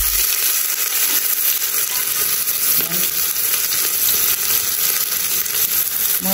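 Onion frying in a pan with blackened fenugreek seeds for a Nepali kwati dish, a steady, loud sizzle that runs the whole time with faint stirring scrapes mixed in.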